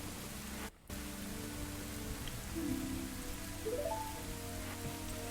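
Steady rain with a storm falls in Ocarina of Time, a soft even hiss of rainfall with faint low rumbling beneath and brief game tones, quiet and continuous.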